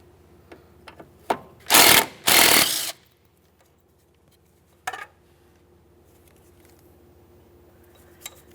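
Power ratchet backing out a 12mm mounting bolt that holds an ABS wire bracket near the front strut of a 2010-2013 Kia Forte Koup, two short close bursts followed by scattered faint clicks and taps.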